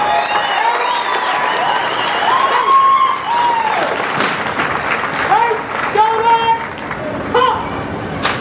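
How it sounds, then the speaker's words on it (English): Sustained crowd applause at a Memorial Day remembrance ceremony honoring the United States Air Force Honor Guard, steady and fairly loud throughout, with a voice speaking over the clapping at points. "Let's have another nice round of applause for the United States Air Force Honor Guard."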